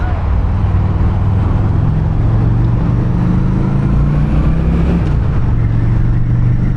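A Honda Shadow Phantom 750 motorcycle engine pulls steadily under throttle while riding, a loud continuous low rumble with a slight pitch shift midway, mixed with road and wind noise and no talk.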